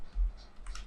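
A few quiet keystrokes on a computer keyboard, soft close clicks in a short burst.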